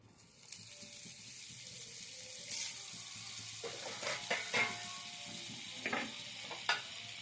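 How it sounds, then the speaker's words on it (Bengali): Amul butter melts and sizzles in a kadai with a soft continuous hiss, broken by a few light clinks and stirring scrapes. "কড়াই বসিয়ে দিলাম, কিছুটা আমুলের বাটার আমি দিয়ে দিলাম।"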